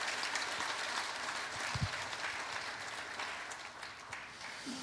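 A church congregation applauding during a Sunday service: steady, dense clapping from a crowd, continuous and moderately distant throughout, with no speech over it.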